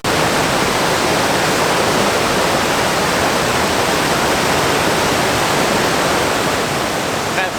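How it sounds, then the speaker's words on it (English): Rapid water pours down Ingleton waterfall in a loud, constant roaring rush that fills the whole stretch, close by and unbroken, with no voices. "try and get a bit closer to this flowing water"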